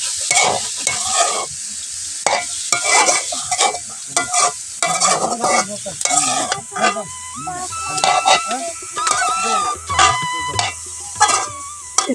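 Grated carrots fry in pure ghee over low heat for a carrot payesh, with a steady close sizzle broken by repeated scraping strokes of a spoon stirring the pan.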